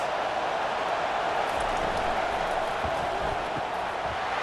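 A dense, steady roar of a large stadium crowd at a college football game in the College Football 25 video game fills the stretch at an even level without distinct voices.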